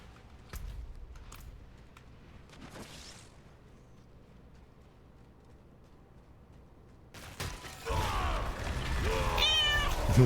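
A cat meowing plays as a livestream sound alert, arriving loud and close after several quiet seconds of faint background noise, with drawn-out tonal meows near the end.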